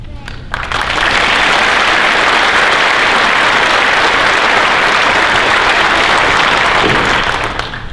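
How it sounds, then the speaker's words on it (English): A room of police trainees bursts into sustained, loud applause for the top shooters, steady dense clapping from the first second nearly to the end, then tapering. "I think a round of applause is in order at this point."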